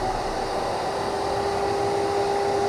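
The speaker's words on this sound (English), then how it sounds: "I'm going to go ahead and put the vacuum on." A shop vacuum runs beside a miter saw with a steady, loud, continuous whirring drone and a constant high whine, with no breaks.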